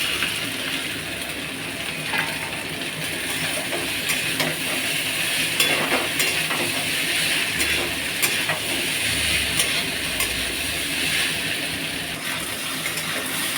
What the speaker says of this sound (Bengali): পাস্তাটা আমার প্রায় ভাজা হয়ে গেছে